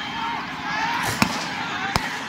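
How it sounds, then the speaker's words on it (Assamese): Gunfire during a street clash involving police after an eviction in Goalpara: two sharp cracks, a little under a second apart, punch through a steady wash of crowd noise and shouting. "পুৰা গুলি ফায়াৰিং কৰি আছে"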